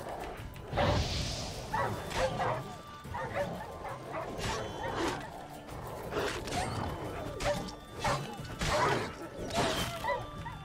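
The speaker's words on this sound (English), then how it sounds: "What level 10 wild dog?" A wild dog in the video game Witcher 3 barks and yips repeatedly in short bursts, with whimpers and some clattering game effects mixed in, fairly close and prominent.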